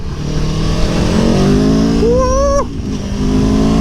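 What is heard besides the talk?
Aprilia Tuono V4 1100 Factory motorcycle accelerating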